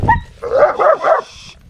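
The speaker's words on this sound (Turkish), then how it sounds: "O havlamasına bakma sen onun." A shepherd dog gives three quick, loud barks close by, followed by a short whine, with no talking.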